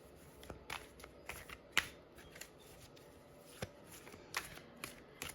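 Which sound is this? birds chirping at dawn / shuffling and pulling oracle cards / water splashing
shuffling and pulling oracle cards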